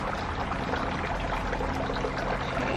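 Water pours steadily onto a string of dolphins succulent, a continuous close trickle and splash with no talk.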